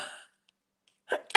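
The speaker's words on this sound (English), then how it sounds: "I have to sneeze. I have to sneeze." A person sneezes, a quick breathy intake followed by two short sharp bursts, close and fairly quiet, with a brief fading noise at the start.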